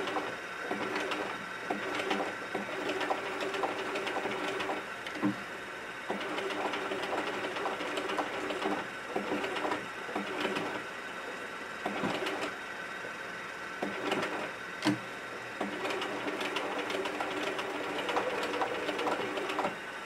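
A sewing machine stitches a denim tote bag in a steady, continuous run of needle chatter and motor whir, with brief pauses and restarts, close and moderately loud, with no talking.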